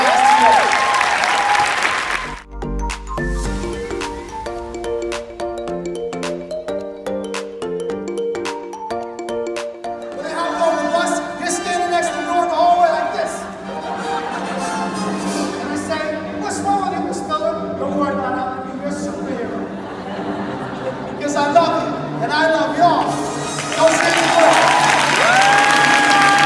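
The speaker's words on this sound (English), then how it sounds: "Give one more clap if you've learned some truly awesome things in the last 2 days." Applause from a conference audience at the close of the second day of a teachers' event, sustained and fairly loud, mixed with music playing throughout, swelling again near the end.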